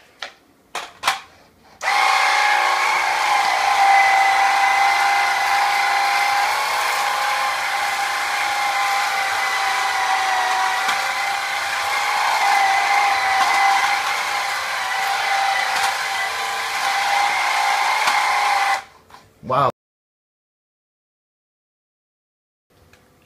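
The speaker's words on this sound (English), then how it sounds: "Let's see how the swivel sweep does." A Swivel Sweeper Max cordless sweeper whirs loudly and steadily for about seventeen seconds as it picks up uncooked rice from the floor, then switches off with a clatter and goes quiet.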